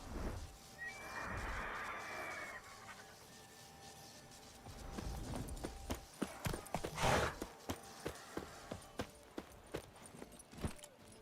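A horse in The Witcher 3 breaks into a run after a quiet stretch of faint ambience, its hoofbeats growing into a clear, evenly spaced clatter over the last several seconds.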